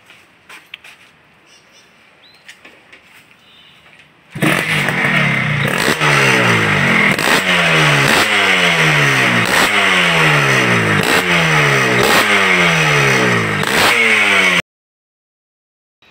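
A tuned Suzuki Shogun two-stroke motorcycle with a fitted expansion chamber starts up loudly nearby and is revved repeatedly, its crackling engine note rising and falling in a regular cycle for about ten seconds before cutting off abruptly.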